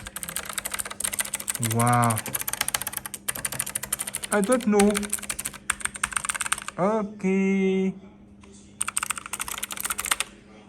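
Rapid clicky typing on an Acer Predator Aethon 500 gaming keyboard with Kailh Blue switches, in close dense bursts with brief pauses, while someone speaks a few short words in between.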